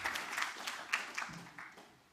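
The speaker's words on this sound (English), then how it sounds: "Can we have one more huge round of applause for Mr." Audience applause at a TechGig Code Gladiators award ceremony, a broad wash of clapping from a crowd that swells briefly and then tapers off toward the end.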